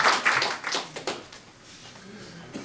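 Audience applause at a campaign-style gathering in Korea as church elders are introduced, a burst of clapping that thins out over a couple of seconds, with some voices mixed in.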